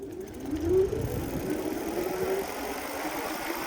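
Bluevall K10 electric moped e-bike running on its rear motor only, a steady mid-pitched motor whine rising slightly as it accelerates, moderately loud over road and wind noise, no voices.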